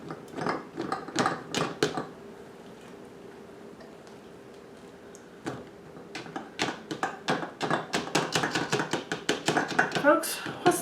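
Yellow squash being packed down into a glass canning jar with a kitchen scoop, heard as a run of close, rhythmic thuds and taps that pause midway, then return faster and denser toward the end.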